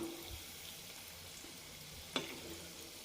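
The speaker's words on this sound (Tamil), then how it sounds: "இது ரொம்ப ப்ரௌனிஷாக பொறிக்கக்கூடாதுங்க நம்ம ஆஃப் பாயில் தான் பொறிக்கணும்" Wheat flour biscuits fry in oil over a medium flame, giving a faint, steady sizzle with one small sharp clink partway through.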